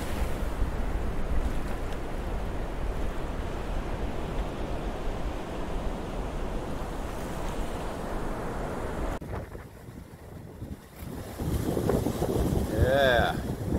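Ocean waves roll and break at Black Hole near Denmark, Western Australia, a steady roar of surf and wash with wind buffeting the microphone, easing briefly before another swell surges in near the end.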